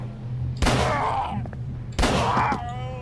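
Two loud gunshots about a second and a half apart in the horror video game Call of Cthulhu: Dark Corners of the Earth, each a sharp blast trailing into a short ringing decay.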